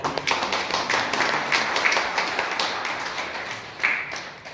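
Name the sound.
volunteers clapping for themselves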